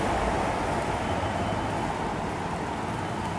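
A steady, broad rumbling roar of a passing light rail train, continuous and fairly loud with no talking.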